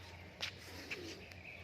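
A pigeon coos faintly a few times against a steady low background hum, with soft chirps mixed in and no voices.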